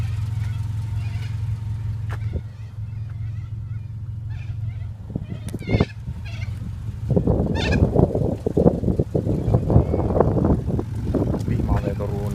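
A horse whinnies amid outdoor noise, with a low rumble early and rustling, blustery sounds building later; a voice is heard briefly.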